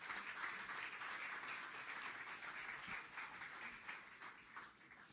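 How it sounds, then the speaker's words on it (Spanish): A church congregation claps for a guest during a Spanish-language morning service, a steady wash of applause at moderate distance that keeps going for several seconds, with no clear voices. "Giovanni, le recibimos con un fuerte aplauso como alguien de la casa."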